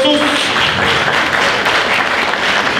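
Audience applause at a local Garkalne event, a steady dense wash of clapping that fills the whole moment without pause, loud and close.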